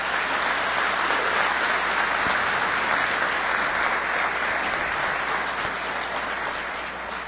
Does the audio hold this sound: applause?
yes